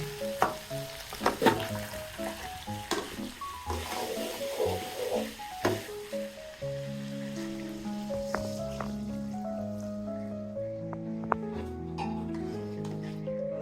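Village-style country chicken curry sizzles and fries loudly in a pan, with crackling bursts and stirring before the sound settles into a steadier bubbling simmer once hot water goes in.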